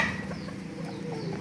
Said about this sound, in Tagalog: Nangayo mga manok.